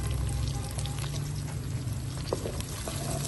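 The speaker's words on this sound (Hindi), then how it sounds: "अब इसमें साथ ही शामिल कर देंगे हम प्याज। प्याजों को हल्का सा हमने नरम करना है" Onions fry in a pan with a constant close hiss that stays even throughout, with no voices over it.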